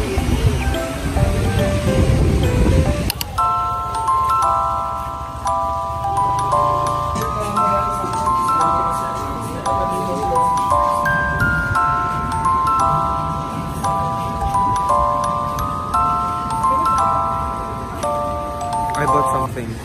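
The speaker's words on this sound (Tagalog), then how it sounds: "nandito ulit po kami sa dagat" Sea waves wash in at a beach in Boracay, a steady broadband hiss of surf running under bright, sustained music tones throughout.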